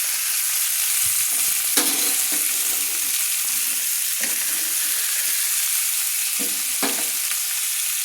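Chicken pieces frying in oil for chicken changezi make a steady, dense sizzle throughout, with a few louder crackles and clinks of a spoon lifting pieces out, close and continuous.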